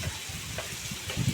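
Spice paste sizzling in a pan with added water while being stirred, a close, steady frying hiss with soft scraping strokes, swelling louder near the end, no voices.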